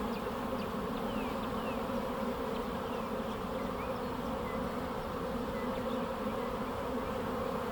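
A honeybee swarm buzzes steadily around a swarm trap at home, a dense continuous hum close by with the drone of individual bees passing near, no voices.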